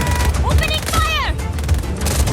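Gunfire in Just Cause 4 rattles in a loud, dense burst of shots, layered with booms and mechanical clatter, while voices talk over it.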